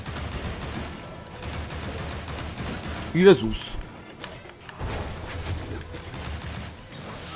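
Gunfire in the video game Shank 2 pops in a short burst near the middle, layered over busy game noise while someone talks throughout.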